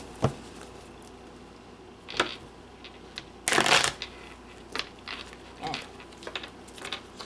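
A deck of tarot cards gets a brief riffle shuffle, one loud burst of fluttering cards amid scattered taps and handling sounds at close range.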